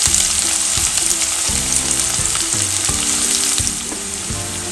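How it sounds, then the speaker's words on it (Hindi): Chopped onions frying in a pan for an Indian methi malai matar curry, a loud, steady close sizzle with occasional stirring scrapes, and no voice over it. "अब हम प्याज जो रखा था 2 काट के चॉप करके वो भी हम इसी में डाल देते हैं।"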